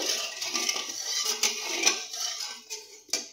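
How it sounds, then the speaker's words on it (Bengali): A metal spoon stirs salt into heating oil in a cooking pan, set up for frying pomfret, giving a run of light scrapes and clinks with a sharper knock near the end. "এবার আমি এর মধ্যে একটুখানি নুন দিয়ে দেবো, যাতে ভাজতে সুবিধা হয় এবং তলা না লেগে যায়। একটু নেড়ে দেবো"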